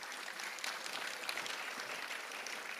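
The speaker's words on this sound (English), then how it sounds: "How about a big round of applause?" Steady crowd applause at a jazz and arts festival event in American Samoa, a dense wash of many hands clapping at even loudness throughout, fairly distant with no clear voices.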